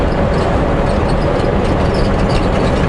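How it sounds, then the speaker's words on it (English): A loud International truck with a 525-horsepower Cummins engine on a highway, a deep continuous heavy rumble of the Jake brake held steadily close by, no talking. "these Internationals have, well, they got the Cummins engines, so 525 horse, just awesome Jake brakes"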